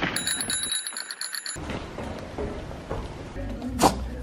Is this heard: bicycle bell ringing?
yes